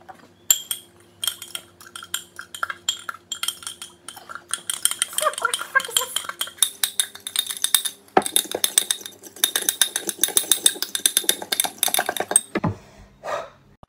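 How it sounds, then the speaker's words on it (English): Spoon clinking and scraping inside a glass while stirring a thick, disgusting homemade drink made with onion dip, a run of quick metallic taps and swirls, close and fairly loud with no talking. "Now let us stir it up and"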